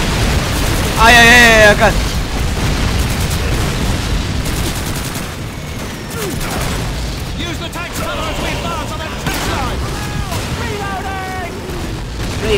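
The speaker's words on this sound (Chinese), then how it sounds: "等大炮，轰炸！" Booming artillery explosions and gunfire from a World War II bombardment in Call of Duty 2, loud and layered, while someone shouts and exclaims over the blasts.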